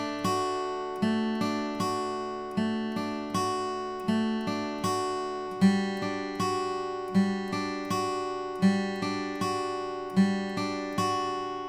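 Clean guitar picking the optional intro riff of a song, a repeating arpeggiated pattern of plucked notes in a steady rhythm, ringing clearly on its own without any voice.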